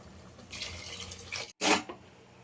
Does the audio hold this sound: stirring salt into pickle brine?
no